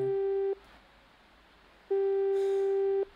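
Telephone ringback tone heard in the game Frequency Missing while calling a club, a steady electronic beep that rings about half a second, falls silent, then rings again for over a second, clear and alone.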